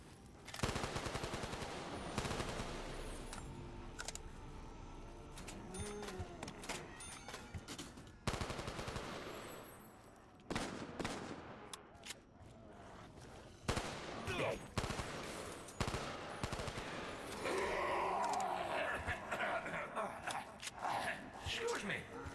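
M14 rifle fire in a modded Black Ops 3 TranZit zombies game, with sharp bursts of gunshots scattered across a dense, noisy game mix, with voices at times over the action.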